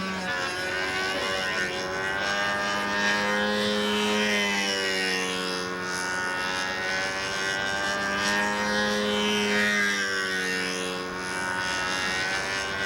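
Windy U Master 444 control-line stunt model plane flying circles, its small engine a loud, continuous high buzz whose pitch rises and falls steadily with each lap, with no talking.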